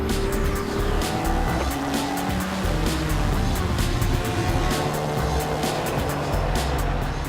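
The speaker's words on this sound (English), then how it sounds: "With new tyres on the car, Romain continues to impress, setting consistently quick times." A race car on fresh tyres laps a circuit, its engine roaring loud and unbroken alongside squealing, skidding tyres, with no voices.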